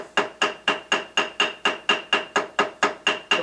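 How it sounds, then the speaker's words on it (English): Steady, rapid ball peen hammer taps cutting through gasket material on cast iron of an International IHC Utility 300, about fourteen crisp, regular strikes up close, each with a short ringing tail and no voices. "Just keep tapping it"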